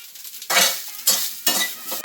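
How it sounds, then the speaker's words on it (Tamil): Grated coconut sautéing in hot oil for pirandai thuvaiyal, three loud bursts of scraping and sizzling as the pan is stirred, close and clear with brief quieter gaps between strokes. "இந்த தேங்காய் போட்டு இதே எண்ணெயிலேயே நல்லா வதக்க போடணும்"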